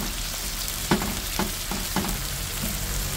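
Chicken sizzles and fries steadily in a pan for pancit guisado, with a few sharp scraping stirs breaking through the constant crackle.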